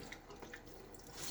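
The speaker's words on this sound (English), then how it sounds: "I want to throw some water on my face." Water splashed and running at a sink while rinsing the face during a wet shave, a soft continuous trickle with small splashes, faint and close, no talking.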